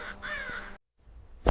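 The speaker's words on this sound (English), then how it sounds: "Crows don't just remember faces, they actively communicate descriptions of threats to one another." Wild crows cawing, a close harsh call lasting about half a second, then a brief silence and a second short sharp caw near the end.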